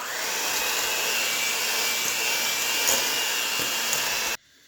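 An electric mixer whirs steadily while mixing marble quick bread batter, a loud, continuous motor drone that cuts off abruptly near the end, close with no talking.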